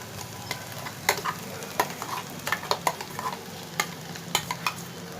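Ground coconut paste stirred into a hot pan with mustard seeds, giving a steady low sizzle broken by sharp scraping spoon strokes at irregular intervals, close by with no voices.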